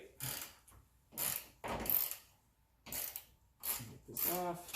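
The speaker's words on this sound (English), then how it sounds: "So I'm gonna take my 17mm ratcheting wrench." A 17mm ratcheting wrench loosens a truck shock bolt, giving several short bursts of rapid metallic clicking separated by brief pauses, close up, with some voice mixed in.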